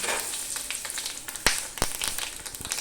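Cumin seeds, two dried red chillies and a bay leaf sizzle in hot oil for a Bengali vegetarian cabbage dish, a steady crackling hiss broken by a couple of sharp pops, close and fairly quiet with no talk.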